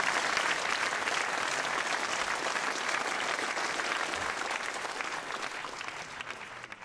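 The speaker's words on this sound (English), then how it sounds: "big round of applause for Alastair Curtis" Audience applause welcoming a speaker at a design event, a sustained dense clapping wash that tapers slightly toward the end, with no talking.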